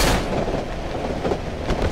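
A loud, steady rumbling roar of a moving train in the Cry of Fear horror video game, with dense low clatter and faint periodic knocks running throughout.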